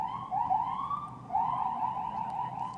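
A police car siren wails past during a Veterans Day parade, two rising-and-falling sweeps, moderately loud and fairly close, with no one talking.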